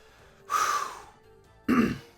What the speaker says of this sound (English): I'm clearing my throat because there's a lot to talk about here